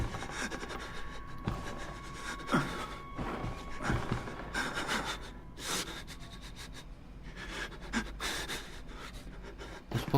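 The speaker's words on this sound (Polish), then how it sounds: "Uspokój oddech, chłopcze." Heavy, ragged panting and gasping from the player character in the horror game Outlast, close and fairly quiet, repeating in uneven breaths with faint rustling between them.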